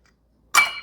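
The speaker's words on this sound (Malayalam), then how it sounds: "ഓരോ ഐസ് ക്യൂബ് വീഴുമ്പോഴും" Ice cubes drop into a glass of Jägermeister with one sharp clink followed by a short rattling tail, close and fairly loud after near-silence.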